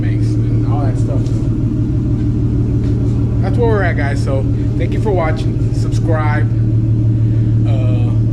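Twin turbo V6 engine idling in an S550 car, with an aftermarket exhaust fitted: a steady, deep, loud rumble running throughout while someone talks over it.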